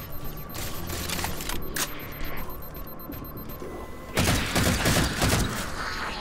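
Plasma pistol shots in the video game Halo 4, a series of sharp, crackling bursts at irregular intervals, then a louder cluster of rapid discharges near the end, with no talking.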